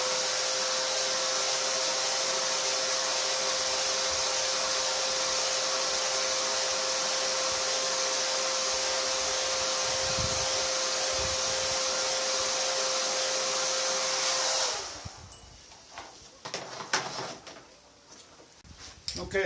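A hair dryer blows on a freshly sprayed RC car body to dry the silver paint, a loud, steady whirring drone that cuts off near the end, followed by faint handling noises.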